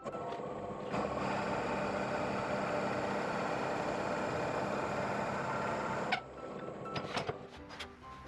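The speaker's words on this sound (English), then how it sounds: "Just going to use a 2-inch Forstner bit to clear out some of this" A 2-inch Forstner bit bores into a segmented maple and resin bowl blank spinning on a lathe at 250 RPM, making a steady grinding whir that stops abruptly, followed by a few light knocks and clicks.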